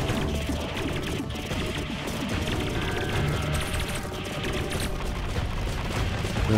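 Dense, continuous shooting in the Der kühne Knappe boss fight against Grummweil: rapid-fire bursts, crashes and impacts pile up into a loud, unbroken barrage.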